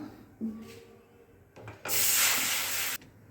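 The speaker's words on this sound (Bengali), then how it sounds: "এবার আমি জল দিয়ে দেবো" After a few small clinks, water gushes into a pan on a lit gas stove with a loud, steady hissing rush lasting about a second, then stops abruptly.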